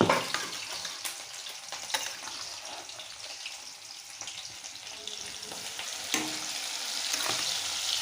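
Chicken and onions fry in hot oil in a wok, a steady close sizzle with occasional scrapes and clatters from stirring, and no voices.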